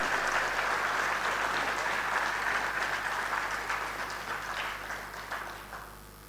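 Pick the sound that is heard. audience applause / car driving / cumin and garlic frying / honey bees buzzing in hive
audience applause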